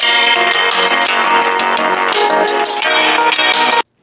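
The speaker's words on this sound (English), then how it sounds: "if we press play and we listen to the track filtered" A full music track plays through a Pro EQ high-pass filter set around 1.4 kHz in Studio One, sounding thin and bright with the low end removed. It runs steadily and loud for nearly four seconds, then cuts off abruptly.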